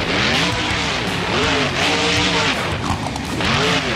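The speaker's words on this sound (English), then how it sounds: "Yet he's starting it off by going over the crush cars." A monster truck in BeamNG Drive growls over a row of crushed cars during a mud battle, its engine loud and continuous with rising and falling revs throughout.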